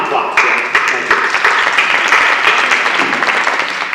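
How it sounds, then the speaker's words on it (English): People at a community meeting about a facility project give a round of applause, steady, full clapping from a gathered audience that carries evenly for a few seconds. "Give them a nice round of applause"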